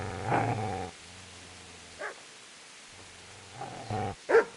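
A video game dog growls low and breaks into a few sharp barks, with quiet gaps between the outbursts and no talk over it.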